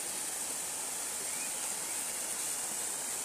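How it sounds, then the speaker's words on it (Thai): A waterfall near a house in a natural forest area roars steadily, a constant broadband rush of falling water with no breaks, moderately loud and unaccompanied by talk. "ฟังเสียงน้ำตกตกดังบึ้มๆ"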